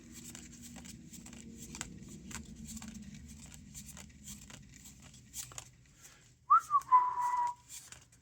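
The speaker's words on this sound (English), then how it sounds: "Let's see if I get copyright claimed on that whistle I just did" Someone whistles a short, bright melodic phrase near the end, close and clear, after several seconds of quiet background rustling and faint taps.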